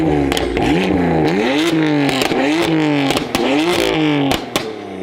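A loud, raspy modified performance exhaust on a BMW S55 engine revs in quick bursts, with crackles and pops between the climbs in pitch, recorded up close.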